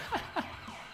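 A toy ambulance siren fitted inside a Warhammer 40k Rhino model gives two quick electronic wails in close succession, fairly soft and close, then fades to a low hum.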